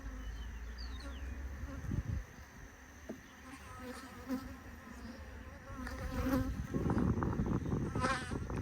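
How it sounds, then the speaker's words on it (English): Honey bees buzz around their hive in a steady, close drone that swells louder toward the end, with a few individual bees whining past near the listener. "I'm standing in front of their hive and they're buzzing around me"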